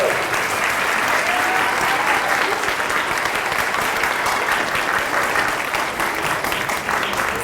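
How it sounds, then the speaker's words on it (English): A school spring concert audience applauds in a steady, dense wash of clapping that stays at an even loudness from start to finish, with no break. "a big round of applause for yourselves"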